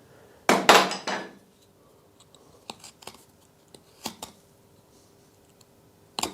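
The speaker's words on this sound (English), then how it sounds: "So while recutting the callus, I'm also going to extend this wound here." Recutting callus on a manna ash bonsai with a hand tool: one loud scraping cut at the start, then a scattering of faint sharp clicks and small snips on the wood, alone without talk.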